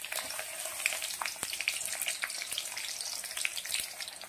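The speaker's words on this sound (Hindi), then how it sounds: "लहसुन डालने के बाद उसमें प्याज कुट भी डाल देंगे।" Chopped garlic and onion frying in hot oil in a pan, a steady close crackling sizzle with scattered pops and occasional stirring, no talking.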